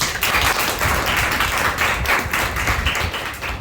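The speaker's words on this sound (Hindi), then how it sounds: "जोरदार तालियां होती।" A crowd gives a burst of applause during a speech in India on women's empowerment and gender equality. The dense, steady clapping runs loud and close through the whole moment, with no voices over it.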